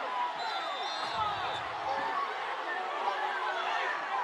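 A steady crowd roar and chatter fill the stands at a high school football game between Roncalli and Bishop Chatard after a quarterback sack, a dense, continuous wash of voices with a few livelier swells.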